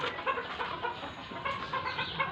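Native farm chickens cluck softly and steadily close by, a busy, faint flock chatter with overlapping calls and no talking.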